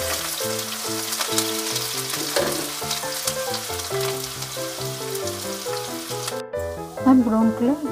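Finely chopped onion fries in a pan, a bright crackling sizzle running steadily beneath louder melodic background music, with a brief dip and a change in the music near the end.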